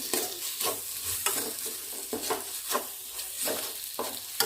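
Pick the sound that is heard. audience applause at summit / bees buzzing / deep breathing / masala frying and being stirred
masala frying and being stirred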